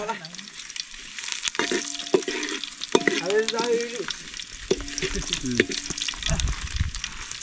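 Bay leaf and spices frying in hot oil for a raw jackfruit curry cooked outdoors, a steady close sizzle with scraping stirs and clinks of a utensil against the pan.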